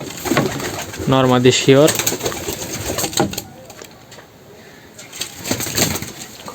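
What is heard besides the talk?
pigeons cooing in a pigeon loft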